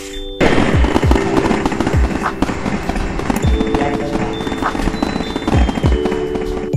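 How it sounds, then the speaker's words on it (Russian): Rapid bursts of fireworks in Roblox Build a Boat crackle and thump in quick succession, a dense steady volley with sharp low booms scattered throughout, loud and close, with the game's musical tones underneath. "Да, мощный салют."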